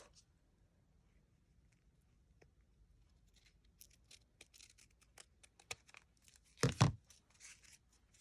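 Scissors trim excess material from a handmade napkin ring, producing faint scattered snips and rustles that build to a sharp, louder cut near the end, close by in a quiet room.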